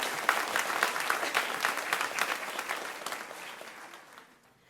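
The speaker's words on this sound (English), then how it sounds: "So give them a big round of applause." An audience at a middle school honors assembly claps briskly, a lively patter of many hands close by that stays steady for a few seconds and then thins out and stops.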